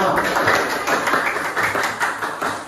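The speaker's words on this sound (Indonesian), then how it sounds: "saya tepuk tangan untuk kelompok 5" A teacher claps briefly for a group of students during a classroom session, a few quick close handclaps blending into a dense, steady roomy texture.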